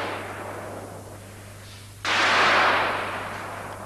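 A single gunshot at a concentration camp execution wall, one sharp loud blast about halfway through that decays into a long rumbling tail over a steady low hum.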